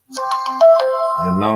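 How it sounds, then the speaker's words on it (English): A phone ringtone chimes for incoming messages, a bright melodic alert that plays loud and close, then slides into a lower sustained tune. "That's my phone blowing up."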